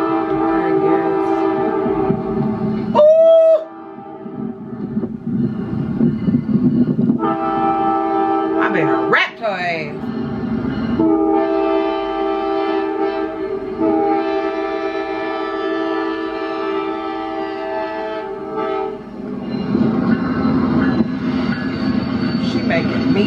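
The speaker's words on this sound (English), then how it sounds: "I think we're trying to get the train like as soon as it comes by." Passing train with loud horn blasts and a continuous rumbling roar of rail cars, heard close by from a vehicle while people talk over it.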